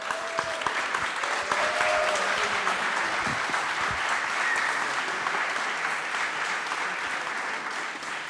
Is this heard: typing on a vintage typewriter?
no